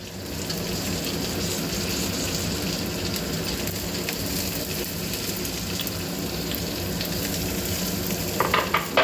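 Onions frying in a pan for jonna atukula popu, a steady close-up sizzle with crackling spatters throughout and a few louder pops near the end.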